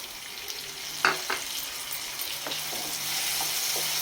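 Pieces of elephant foot yam fry in a pan with a steady hiss, punctuated by a sharp clatter as pieces drop in and occasional stirring taps, close and moderate in level.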